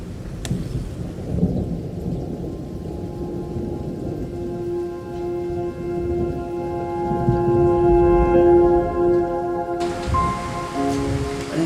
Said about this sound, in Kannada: ನೋಡ್ತಾ ನೋಡ್ತಾ ಗಾಳಿ ಮಳೆಯು ಬಂದಿದೆ